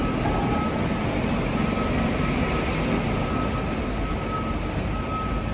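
Early-morning ambience at a bus station, with a constant broad rumble of idling engines and a faint, evenly spaced ticking repeating over it.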